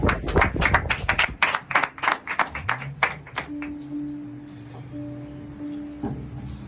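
A church congregation applauding the word of God, a burst of dense clapping that thins out into scattered claps and fades away.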